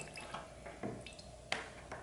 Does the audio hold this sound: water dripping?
yes